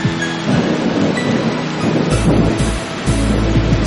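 Heavy rain pours steadily, loud and close, with deep rumbling thunder rolling underneath and swelling in bursts.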